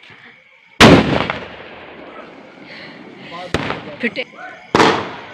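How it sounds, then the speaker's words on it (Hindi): Diwali firecrackers burst on a rooftop: three sharp, loud bangs spaced a few seconds apart, each with a short decaying rumble, plus a smaller pop or two between them, with a voice briefly heard. "हम छत पे जाकर बम्ब चला रहे थे बच्चे"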